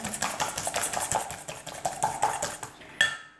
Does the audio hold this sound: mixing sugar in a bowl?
yes